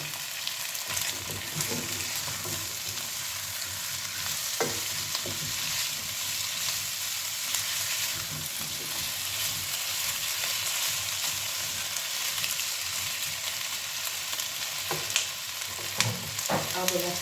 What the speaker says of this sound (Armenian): Հիմա ավելացնում եմ կարտոֆիլը